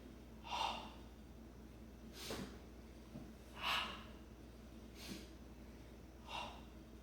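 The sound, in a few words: breathing, inhaling through the nose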